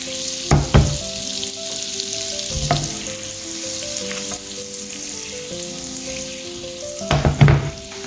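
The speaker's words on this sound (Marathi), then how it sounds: "हिंगा बटर मेल्ट जावंक लागला" Butter melting and sizzling in a pan over low gas, a soft steady frying hiss with a few brief clattering knocks of a spoon near the start and end, under background music.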